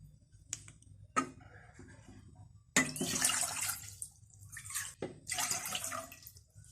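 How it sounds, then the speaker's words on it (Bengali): Two cups of plain water poured into a pot on the stove, a couple of short splashes followed by longer steady pouring streams, close by and otherwise quiet. "আমি একটা চুলায় হাঁড়ি দিছি, এর মধ্যে দিয়ে দিচ্ছি 2 কাপ নরমাল পানি।"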